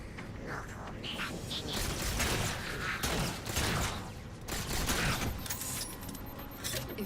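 Gunfire and rocket launcher blasts in the video game Halo 4 come as dense, loud bursts of overlapping shots and explosions that swell and fade repeatedly without a break.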